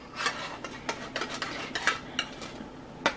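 A spatula turning apple turnovers in a pan, with a series of sharp metallic scrapes and clinks against the pan at irregular intervals, close and fairly clear over a faint background.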